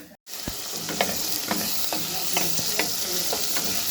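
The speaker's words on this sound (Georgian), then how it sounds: "ამასობაში ხორცის სოუსი დავიწყე." Meat sauce sizzles steadily in a frying pan, loud and close, with a spoon stirring and scraping at regular intervals after a brief silent gap at the start.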